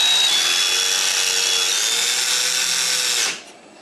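Power drill boring into a rod, a loud, close, steady high-pitched whine that holds for over three seconds before the motor cuts off and winds down.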